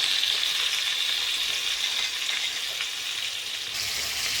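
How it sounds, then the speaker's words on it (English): Steady, close sizzling and crackling of crab pieces frying in a hot pan, a continuous hiss with no talking. "3 more pieces were there, so I kept it in the pan, frying"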